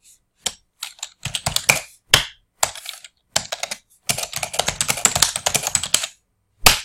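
Close, loud typing on a computer keyboard: quick clattering bursts of keystrokes separated by brief silences, ending with a longer rapid run and one final tap, with no voices.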